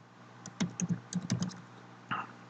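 A short burst of computer keyboard typing enters a single word, about a dozen quick, crisp key clicks in close succession, then one last isolated tap.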